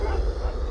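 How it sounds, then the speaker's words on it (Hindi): Wild dogs barking in a dark forest at night as a horror story sound effect, a steady stream of low yips and barks running continuously through the short moment. "दूर किसी उल्लू की आवाज गूंज रही थी और जंगली कुत्ते रहकर भौंक रहे थे।"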